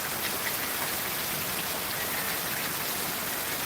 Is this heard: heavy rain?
yes